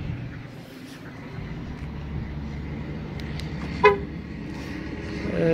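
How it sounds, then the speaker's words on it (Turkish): A car horn sounds once at close range, a short greeting honk given as the car locks, heard against steady outdoor road and traffic noise. "Gördüğünüz üzere aracımız kilitlenir kilitlenmez korna selamlamasını yapıyor."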